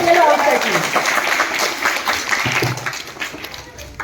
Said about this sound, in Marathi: जोरदार टाळ्या वाजवायच्या येलो हाऊस साठी